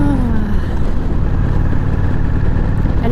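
A Harley-Davidson Sportster 883 motorcycle is ridden at a steady pace, with a loud, continuous engine rumble mixed with heavy wind buffeting on the microphone throughout.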